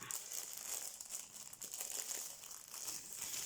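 Plastic packaging crinkles and rustles continuously as a diamond painting canvas is unwrapped, with close, busy crackling and a few sharper crunches, no voices.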